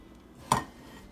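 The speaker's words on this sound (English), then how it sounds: "I'm gonna toss the pork belly into the pot" Pork belly lands in a cooking pot with one short, sharp clunk, brief and close, followed by quiet room noise.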